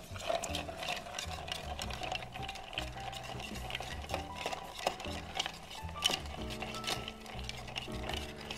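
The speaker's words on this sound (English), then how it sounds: "Add some ice, and we'll give it a stir down." Ice stirred in a mixing glass for a Full Monte cocktail, a steady close rattle and clink of cubes under a spoon with regular swirling rhythm throughout.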